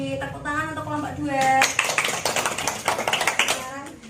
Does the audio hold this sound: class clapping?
yes